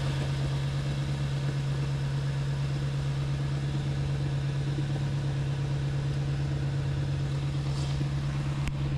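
A Ford E450 box truck engine idling steadily, a low, even hum with a constant drone, fairly quiet and unchanging throughout with no talk.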